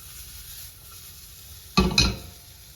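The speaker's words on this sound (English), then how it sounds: "we've been sauteing our onions now for about 7 minutes" Red onions sautéing in a pan, a quiet steady sizzle broken near the end by two brief louder bursts of stirring and scraping.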